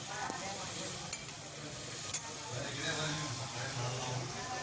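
A vegetable paste fries quietly in oil in a pan, giving a soft, steady sizzle with a couple of sharp clicks as it is stirred.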